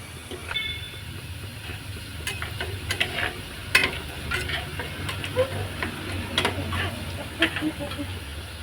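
Fish curry is stirred in a clay pot, a soft continuous bubbling sizzle with repeated scraping and knocking strokes of a spoon against the pot at an uneven pace, fairly close.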